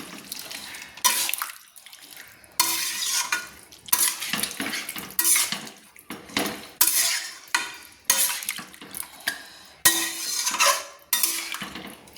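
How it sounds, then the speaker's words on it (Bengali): Hatchery chicken meat being stirred in a pan for a Bengali curry, a spoon scraping and clattering against metal in repeated bursts, with a soft sizzle underneath and short pauses between strokes. "আবারও আমি ভালো করে নেড়ে নিচ্ছি।"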